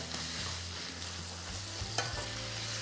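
Tomatoes and vadagam sauté over a medium flame in a pan for snakehead murrel fish curry, giving a steady, close sizzle and crackle with light stirring scrapes.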